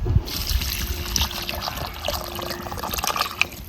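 Salted water is poured into a mutton curry, making a soft continuous trickle and splash of liquid close by, fairly quiet and without speech.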